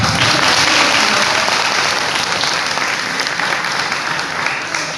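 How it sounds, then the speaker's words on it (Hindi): Dense, sustained applause from a large audience filling a hall at a youth parliament event, steady and loud throughout with a slight fade toward the end. "तालियां तो बजाइए आप।"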